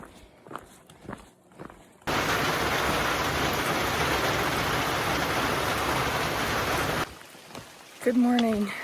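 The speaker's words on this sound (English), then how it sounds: "It's really dark out and rainy this morning" Heavy rain on the Appalachian Trail pours down in a dense, steady hiss for about five seconds, framed by quieter moments with footsteps and a voice at the end.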